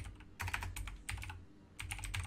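Java code being typed on a computer keyboard, with bursts of close, rapid key clicks separated by short pauses.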